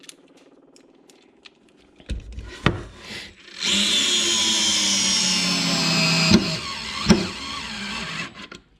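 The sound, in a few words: small cordless screwdriver driving a number 8 screw into wood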